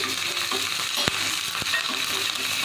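Urad dal, curry leaves and chillies sizzle loudly in hot oil as a tempering for hotel-style coconut chutney. A dense, even crackle runs throughout, with two sharp spoon knocks against the pan. No talk.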